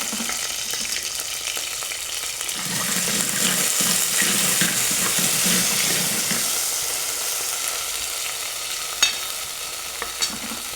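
Garlic and curry leaves fry for a tempering in a Haputale-style meat curry, giving a busy, crackling sizzle with a few stirring scrapes and sharp spits toward the end.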